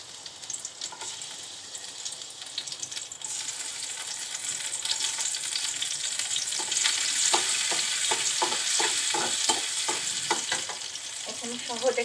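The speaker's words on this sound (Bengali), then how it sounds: "ঘির ভিতরে কিছু বাদাম কুচি দিচ্ছি।" Chopped nuts fry in ghee for homemade lachha semai, giving a steady close sizzle with scraping stir strokes that grow more frequent toward the end.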